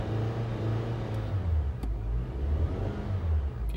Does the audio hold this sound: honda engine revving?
yes